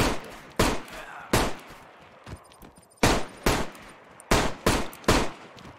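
Loud, close gunshots from the survival video game DayZ, about eight sharp reports fired in an uneven rhythm, with short gaps and one quick pair, over a quiet background.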